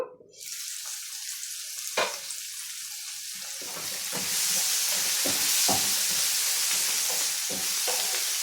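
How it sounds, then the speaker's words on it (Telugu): Onion pieces frying in a pan over a high flame for a red amaranth stir-fry, a steady close sizzle that grows louder, broken by occasional stirring scrapes and clacks, with no voices. "ఇంకా కొద్దిసేపు ఉల్లిపాయ ముక్కలను మగ్గనిద్దాము కొంచెం మంటను హైలోనే ఉంచి మగ్గనిద్దాము"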